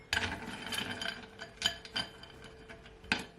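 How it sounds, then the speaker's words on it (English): Ice cubes drop into a drinking glass while a carrot, apple, ginger, lime and lemon juice is made, a scattered series of light clinks and taps, close and fairly faint, with no talking. "So now I'm gonna add some ice."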